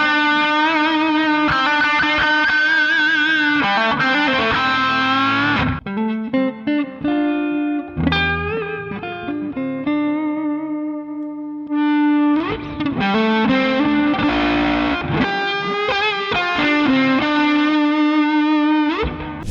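Electric guitar through a tube amp with Valeton GP-200 effects, distorted, effects-laden tone, strummed chords and ringing lead lines, loud and close, pausing briefly before resuming.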